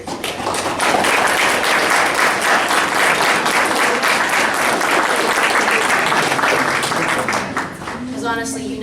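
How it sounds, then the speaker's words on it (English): Loud, sustained applause from a large crowd at a graduation ceremony, dense and continuous for several seconds before easing slightly at the end. "give a round of applause to all of our family and friends here today"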